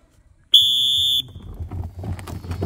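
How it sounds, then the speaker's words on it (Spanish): Whistle blown to start a challenge, a single loud shrill blast lasting under a second, followed by muffled outdoor crowd noise and movement. "Cuando escuchen el pito, comienza la acción."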